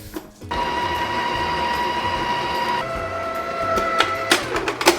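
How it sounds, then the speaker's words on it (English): A stand mixer beats butter with a steady whirring motor whine that shifts pitch midway, close and fairly loud, with a few clatters of the beater toward the end. "I'm gonna start off by putting the butter in the standing mixer"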